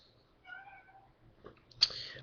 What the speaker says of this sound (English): It's not my cat.